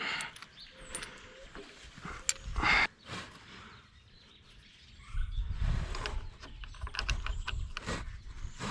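A mechanical puller clicks and ratchets during removal of the engine from a 1991 Mercury Grand Marquis, giving irregular metallic clanks and scrapes, close and moderately loud, with quieter gaps between bursts.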